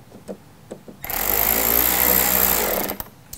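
A power driver spins screws into a plastic HID headlight housing in one loud burst of whirring that lasts about two seconds, with quiet clicks before and after.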